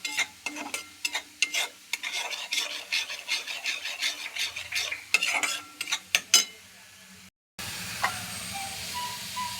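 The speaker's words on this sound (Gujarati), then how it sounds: "બધો મસાલો સારી રીતે મિક્સ થઈ જવા દેવાનો છે" Spice masala for Punjabi drumsticks stirred in a pan: repeated scraping, rasping strokes of a spoon with a light sizzle, then a short pause and a softer steady frying hiss.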